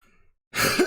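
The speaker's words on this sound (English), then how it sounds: "now that I just coughed in all your guys' ears" A single short cough from a man, close to the microphone, after a brief faint murmur and a moment of silence.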